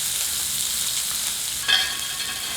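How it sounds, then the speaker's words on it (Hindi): Onions frying in a pan of oil over medium heat with black cumin and green cardamom, giving a steady, close hiss of sizzling with a brief louder crackle partway through. "मध्यम आंच पर भूनकर प्याज को सुनहरा कर लेते हैं।"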